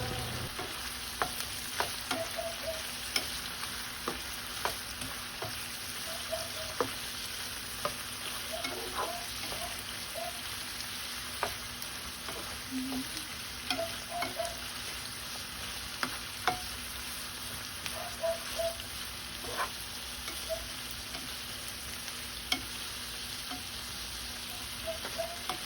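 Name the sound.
shrimp being stir-fried with soy sauce in a pan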